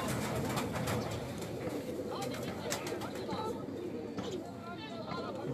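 Pigeon cooing from a rooftop loft, a soft repeated coo mixed with other birds chattering and a busy background, with people talking over it throughout.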